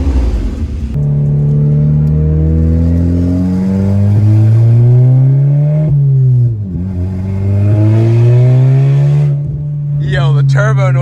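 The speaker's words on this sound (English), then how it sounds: "Yo, the turbo noise is wild." A 2017 Volkswagen MK7 GTI with a Black Forest Industries dogbone mount insert revs up in long rising sweeps with audible turbo spool, loud and close from inside the car, dropping between pulls, with a voice exclaiming near the end.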